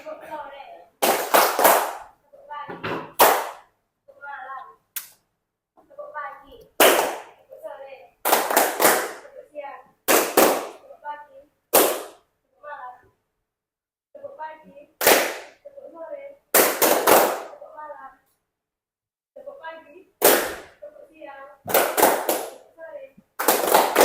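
A group of people clap together in sharp, loud bursts, with bouts of clapping broken up by stretches of children's chatter and talk in between.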